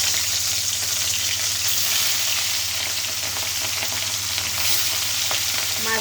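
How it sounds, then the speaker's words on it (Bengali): Pieces of rohu fish fry in hot oil in a kadai, giving a loud, steady, close sizzle that crackles on without pause and with no voices. "মাছগুলো এখন আমি সুন্দর করে লাল লাল করে ভেজে নেব"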